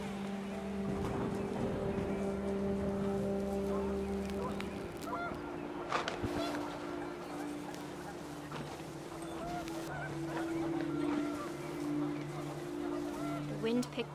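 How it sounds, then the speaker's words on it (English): Panicked geese honk in a game scene, a cluster of calls rising over a steady ambient bed of wind and background music, moderately close and continuous throughout. "wind picked up, and panicked geese appeared and quickly went"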